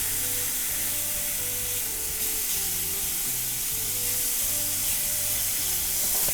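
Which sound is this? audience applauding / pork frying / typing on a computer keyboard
pork frying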